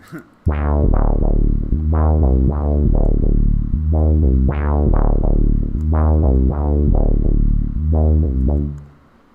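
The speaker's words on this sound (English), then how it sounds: "so I'll end up getting this kind of like whoa whoa whoa sort of wompy bass sound." A wompy bass synth with its filter modulated by a voice signal pulses in loud, rhythmic swelling notes, each opening bright then closing down, repeating steadily for several seconds without talk.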